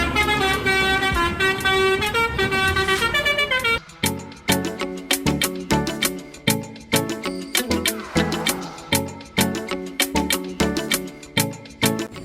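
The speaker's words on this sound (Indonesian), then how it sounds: "ternyata ini bus telolet." A toy telolet bus sounds its musical horn, a repeated melodic multi-tone tooting that plays continuously and then breaks into a rapid series of short, punchy honks, loud and close with no talking.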